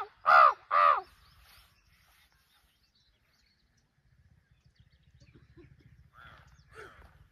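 Crows near a dam, out in the open at a campsite, answer imitated calls: two loud, close caws at the start, then quiet, and fainter, more distant caws near the end over a low murmur.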